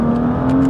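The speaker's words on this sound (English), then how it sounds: "you know it's gonna be squeeze the throttle, squeeze it, lovely" A tuned BMW M2's engine revs hard as the throttle is squeezed, a loud, close, rising drone in a brief burst.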